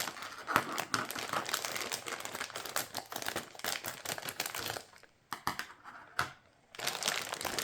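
A plastic bag holding Paperblanks puzzle pieces crinkles and crackles in dense, irregular bursts close up, with a brief quiet pause before the rustling starts again.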